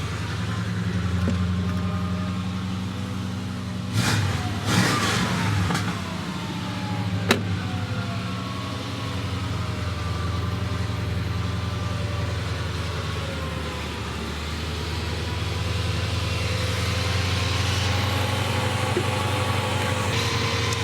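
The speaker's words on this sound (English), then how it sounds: "This truck's idling all over the place." A dually pickup truck engine idles with a steady low rumble that wavers unevenly in pitch, with a few brief clicks and knocks near the start, and no talking.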